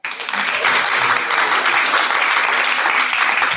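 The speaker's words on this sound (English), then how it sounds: "Can I have a warm applause?" Conference audience bursts into warm applause, a dense, steady clapping that fills the room and holds at full strength until the end.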